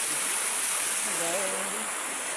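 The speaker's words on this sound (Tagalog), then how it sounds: "Pero ito yung falls o." Steady rushing roar of a forest waterfall heard up close, a continuous broadband wash of falling water with a voice briefly audible underneath.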